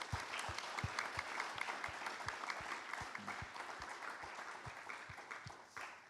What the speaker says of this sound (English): I would request all of you to show our appreciation, not just to the 3 fellows here, but to all the fellows through a big round of applause